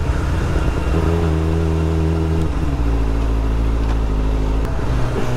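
A sport motorcycle's engine revs loudly while riding through Hong Kong, the pitch rising and stepping down with gear changes as the bike accelerates, close and continuous.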